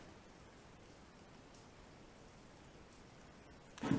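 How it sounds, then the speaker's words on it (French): Steady, faint hiss of heavy rain with water drops pattering on surfaces, continuous and even throughout, ending in a brief louder burst of noise at the very end; no talking. "ne tenez pas compte des gouttes d'eau qui tombent, hein, parce qu'aujourd'hui il pleut énormément"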